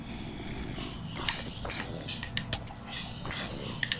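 A dog in the Minecraft video game makes a few short, sharp sounds scattered over a steady, murky game background, with no talking.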